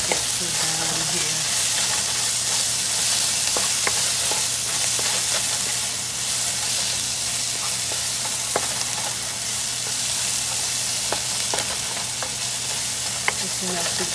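Onions frying in a wok, a steady close sizzle running throughout with occasional scrapes and taps as they are stirred, no talking.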